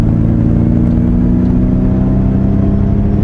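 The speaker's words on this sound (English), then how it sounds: "Let's turn on the propulsion sound." A Ford Mustang Mach-E electric car plays an artificial performance-engine propulsion sound, a steady loud, close humming drone with layered low tones rising slightly as it runs.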